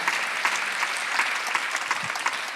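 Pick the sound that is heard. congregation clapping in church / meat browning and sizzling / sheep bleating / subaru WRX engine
congregation clapping in church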